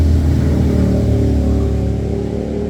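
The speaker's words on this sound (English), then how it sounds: "You can hear a lot of traffic now." Steady engine drone of vehicles on a busy road near a house in rural New Hampshire, a loud continuous rumble with no pauses across the whole stretch.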